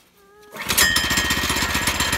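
A portable sawmill's petrol engine catches on a single pull after a quiet moment, then settles into a loud, rapid, rattling idle close by.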